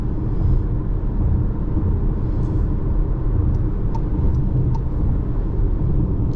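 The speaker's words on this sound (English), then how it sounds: "Give her some gas. Passes with ease." A 2024 Volkswagen Tiguan S with front-wheel drive accelerates to pass on the road, its engine a steady, loud rumble mixed with road and wind noise, heard from inside the cabin.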